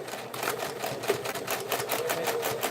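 A sewing machine back stitching the corner of a tote bag pocket chatters in a fast, even rhythm, close and steady throughout with no talk.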